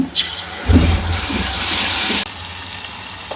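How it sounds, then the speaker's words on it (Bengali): Water poured into a hot pan of ginger, garlic, cumin paste and ground chilli, turmeric and coriander spices bursts into loud sizzling and bubbling, with a brief clatter at the start before it abruptly drops to a softer simmer. "এখন দিয়ে দেবো পানি"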